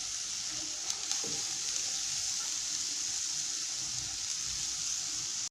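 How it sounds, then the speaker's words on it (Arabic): Onion slices sizzling in a little oil in a frying pan, a steady close crackle and hiss running throughout at an even level, with a faint clink near the start. "ندير شويه تاع الزيت في المقله، وندير حبيبه تاع البصل مقطعه رقيق، ونخليها حتى تدبل مليح"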